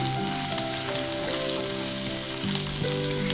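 Vegetables fry in a hot pan with a steady, dense sizzle that stays loud and close throughout, with no talk over it.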